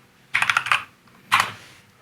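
Fingers type a short word on a computer keyboard: a rapid burst of about five close, crisp keystrokes, a brief pause, then one or two more taps.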